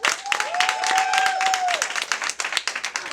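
A talk-show studio audience claps and cheers for a guest, with a sustained whistle or whoop riding over the clapping before it thins into scattered claps.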